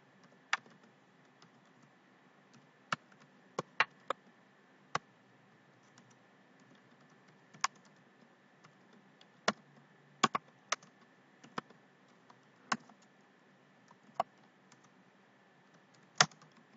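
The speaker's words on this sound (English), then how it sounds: "And now just type code of C++." Sparse, irregular keystrokes on a computer keyboard while C++ code is entered on an Ubuntu Linux machine, crisp single clicks spaced by pauses over a steady low hum, no speech.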